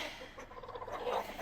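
A broody hen makes a low, grumbling cluck, a short, close, throaty burst that rises briefly near the end, with no one speaking.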